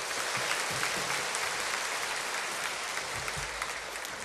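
A church congregation claps steadily during a Sunday service, a dense, even roll of many hands lasting the whole stretch at moderate distance.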